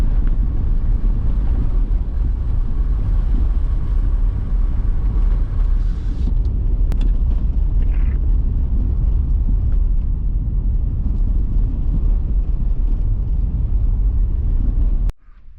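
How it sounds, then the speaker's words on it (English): A Suzuki drives over snowy roads near Mavora Lakes, heard from inside as a loud, continuous low tyre-and-engine rumble with wind noise, ending abruptly. "this is snow driving"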